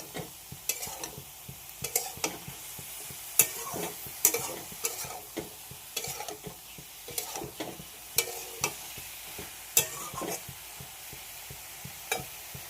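A spice mix sautés quietly in a pan as a spatula scrapes and taps in a regular rhythm, soft sizzling running beneath the repeated stirring strokes, with no talking.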